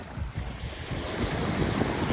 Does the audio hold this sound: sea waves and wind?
yes